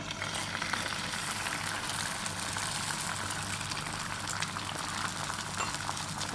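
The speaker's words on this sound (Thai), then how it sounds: "พอกระทะเริ่มร้อนแล้วก็เทไข่ลงไปนะคะ" Beaten eggs for a Thai omelette with pork sausage and basil sizzle in a hot, slightly tilted pan on a gas stove, a steady, close, crackling hiss that carries on unbroken.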